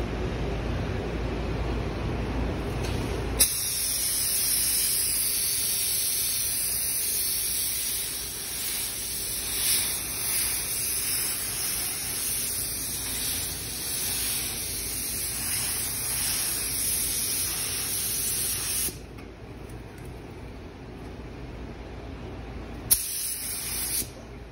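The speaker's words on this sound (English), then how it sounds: "Spraying adhesion promoter." A spray gun hisses in a long, steady burst of adhesion promoter on a 2023 Chevy Traverse spot repair for most of the clip, briefly pausing near the end before spraying again.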